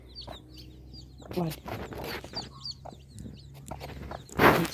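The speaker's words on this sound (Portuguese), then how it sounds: "A gente chama a sedosa do Japão, essas galinhas." Silkie chickens, a hen with her chicks on a small farm, clucking softly in short bursts with high chick peeps, mixed with someone talking and some handling noise.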